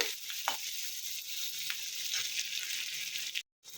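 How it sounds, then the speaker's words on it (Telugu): Vegetables fry steadily in a hot pan for Chicken 65 Manchuria, a close, dense sizzle with brief stirring scrapes, ending in a short silence. "ఇవన్నీ బాగా వేపుకోవాలండి"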